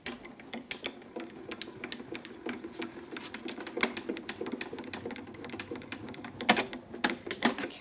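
A Grand Calibur die cutting machine cranks paper and a cutting plate through its rollers, producing a close, steady run of quick mechanical clicks and ratcheting ticks with a few louder knocks, and no speech.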